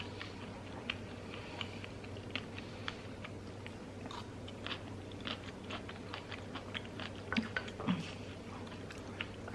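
Blueberries with peanut butter and maple syrup being chewed close up, with soft, irregular wet clicks and crunches scattered over a steady low hum.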